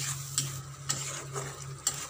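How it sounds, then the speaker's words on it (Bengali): Melon seeds (char magaj) stirred in a frying pan, a steady low sizzle with soft periodic scraping strokes of a utensil, close and fairly quiet, no talking. "একটু নেড়ে নিতে হবে।"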